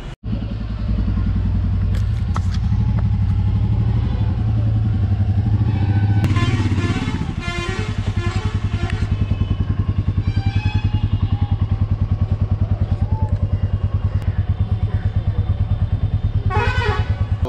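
A Royal Enfield Meteor 350 motorcycle engine runs steadily and loudly with a low, throbbing idle rhythm, joined by passing traffic clatter and brief horn-like tones.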